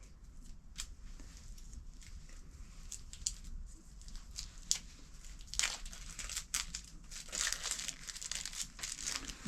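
Thin plastic foil wrapper being peeled off Tactical Foodpack compressed energy bars: quiet, close crinkling with scattered sharp crackles that grow denser and louder toward the end.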